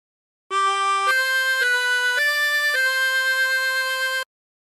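A 16-hole tremolo harmonica plays a short melodic phrase of five sustained notes stepping upward from Nearer My God to Thee, bright and reedy with a wavering tremolo, alone and up close.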